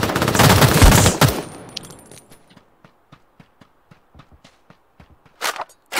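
Rapid automatic gunfire from a gun in the video game Ring of Elysium, starting as a dense, loud burst that then thins into a series of sharp, spaced clicks and taps before a final short double burst.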